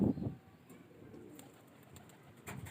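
Pigeons near a factory rooftop give soft, low cooing calls, with a brief throaty coo up close at the start and another near the end over quiet background.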